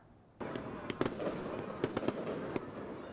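Fireworks bursting around a Fourth of July celebration in Jamestown, a steady crackling roar with several sharper, louder bangs scattered through it, close and dense without pause.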